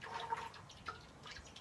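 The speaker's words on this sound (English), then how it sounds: "And that's when your ghee is almost done. It's kind of bubbling." Homemade ghee bubbles as it cooks in a pot, faint irregular pops and small bubbling bursts crackling quietly with no voices.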